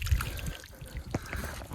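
Garden plants in a vegetable plot with potatoes and Brussels sprouts getting a good watering, a soft, steady trickle and patter of water running close by for a couple of seconds with no voices.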